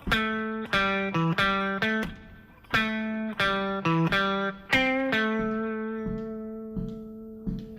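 An electric guitar plays a lively major pentatonic solo with a distorted, sustained tone, quick note runs ending on a long ringing note.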